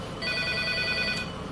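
A telephone rings on a live call-in program, a close electronic ringing tone that starts after a brief pause and sounds continuously for about a second, fairly quiet.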